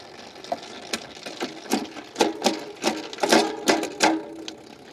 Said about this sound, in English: Now let's try that again, this time with multi-shift, meaning I'm going to hold down the shift paddle.